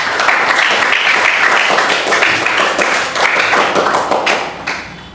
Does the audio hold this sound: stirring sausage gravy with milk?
no